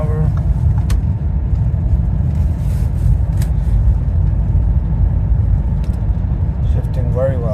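2017 Audi Q7 cruising at 70 mph after a transmission replacement, a steady loud road and engine rumble filling the cabin throughout, with someone talking over it.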